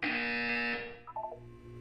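An electronic buzzer from the video game Portal 2 sounds loudly for under a second, then cuts off, followed by a few faint electronic blips and a low hum.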